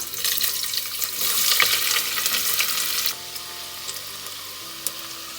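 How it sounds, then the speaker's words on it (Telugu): Onions frying in hot oil in a pressure cooker for a Rayalaseema mutton curry, a steady loud sizzle with stirring scrapes, quieting partway through as the pan settles into a softer crackle. "ఒక రెండు గరిటెలు ఆయిల్ వేసుకుందాం ఆయిల్ వేడయ్యాక ఉల్లిగడ్డలు వేసేసుకుంటున్నా"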